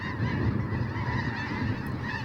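Canada geese and snow geese honking together at a wildlife refuge, a dense, continuous chorus of overlapping calls from a large flock, steady and fairly distant with no talk.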